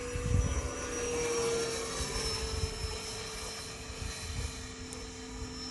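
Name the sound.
E-Flite F-18 Hornet 80mm EDF model jet at half throttle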